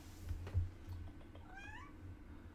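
A cat meows softly during a live storm-coverage stream, a single faint rising call over a steady low room hum, with a brief thump just before it.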